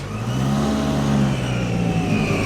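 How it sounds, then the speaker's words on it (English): A supercharged Wolseley classic car revs close by at a classic car meet, its engine note rising and holding in a strong, throaty drone that stays loud throughout. "The very fruity sounding Wolseley. Supercharged as well."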